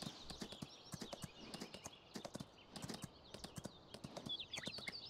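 Horse hooves clip-clop in a steady walking rhythm while riding a horse in Farming Simulator 19, close and moderately loud, with no talk over them.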